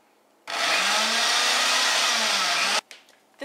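A food processor pulverizing flour, almonds, baking powder and salt, starting abruptly with a loud, steady whirring roar that holds for over two seconds, then cuts off sharply, followed by faint clatter.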